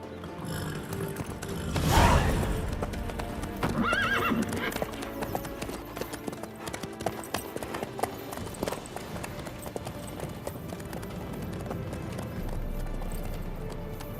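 A horse in The Witcher 3 gives a loud neigh near the start, then its hooves clip-clop in a steady trotting rhythm on the ground for the rest of the stretch, with faint ambient game sounds underneath.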